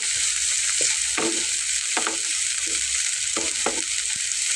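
Minced meat fries in a pan with a continuous bright sizzle, while a spoon stirs it in several scraping strokes, close and steady, with no talk.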